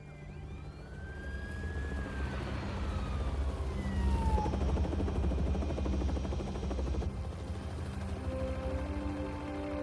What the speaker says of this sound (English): Why do you always gotta pull up in the helicopter? Blowing all these damn leaves around.